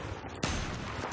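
A single sharp .338 Recon sniper rifle shot in a video game, a loud sudden crack with a brief rumbling tail over steady background noise, alone with no voices.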